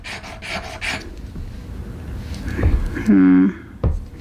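Pewter jewelry is scratched across a test surface to check the metal, giving a short raspy scrape that follows a stretch of quieter rubbing, with a brief tonal squeal near the end.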